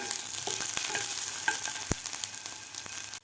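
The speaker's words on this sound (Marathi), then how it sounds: "थोडंसं तेल घालायचं आहे आपल्याला थोडासा गोल्डन कलर होईपर्यंत आपल्याला लसूण तळून घ्यायचं आहे" Garlic fries in a little oil until golden for a mixed flaxseed chutney, giving a steady close sizzle with a few sharp stirring clicks and one louder knock, and no voices.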